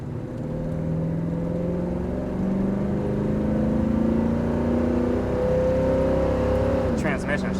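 A 1982 Chevrolet C/10 pickup truck engine hums steadily, its pitch slowly climbing as it accelerates, then drops abruptly as a firm gear shift comes near the end.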